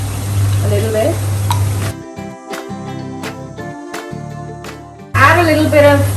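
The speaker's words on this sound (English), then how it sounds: "I've taken 4 eggs and we're gonna beat that a little bit." Four eggs are beaten in a bowl with quick, evenly spaced clicking taps of a utensil against the bowl at close range, with people talking just before and after.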